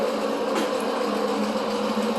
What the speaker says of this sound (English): the exhaust fan is really loud